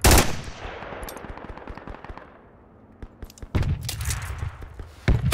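Bursts of suppressive gunfire in the Project Reality military shooter game: loud shots at the start, a quieter stretch of scattered distant cracks, then a dense renewed volley with another sharp burst at the end.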